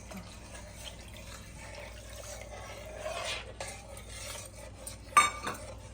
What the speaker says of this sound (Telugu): ఇప్పుడు ఇలా వేసుకుంటా కలుపుకుంటూ ఉండాలి